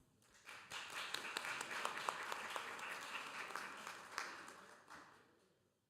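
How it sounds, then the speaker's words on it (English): Audience applause at a peace conference, a dense wash of many hands clapping that swells in, holds steady for several seconds, then fades out near the end. "Let us invite up Professor Chan with a round of applause."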